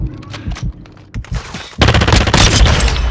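Rapid automatic gunfire from Call of Duty Modern Warfare II, loud and close: scattered single shots and short bursts at first, then a sustained dense fusillade of overlapping rounds.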